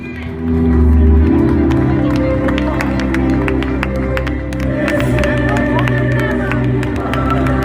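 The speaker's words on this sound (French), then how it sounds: "on peut l'applaudir très très fort" Crowd of a few hundred applauding and cheering at a small show's prize announcement, loud sustained clapping with shouts, a low hum underneath throughout.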